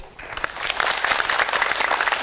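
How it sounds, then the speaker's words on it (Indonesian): An indoor audience at an Indonesian community empowerment event in Kendal Regency breaks into applause, a dense, steady patter of many clapping hands that builds and holds. "Dari Kabupaten Kendal kita beri tepuk tangan dulu"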